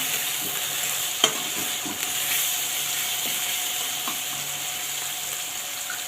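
Onions browning in a pan sizzle at a steady moderate level while a utensil stirs them, with a few soft scrapes and taps scattered through the continuous frying hiss.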